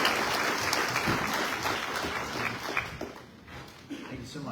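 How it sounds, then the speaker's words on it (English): Applause at a chamber of commerce candidate forum, moderate clapping that thins and fades toward the end, with voices talking over it. "let's give Alan a round of applause"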